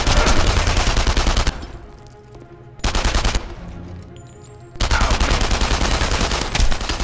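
Sustained automatic gunfire in the shooter game Enemy Front, loud, dense bursts with two brief lulls between heavy volleys, no talk over it.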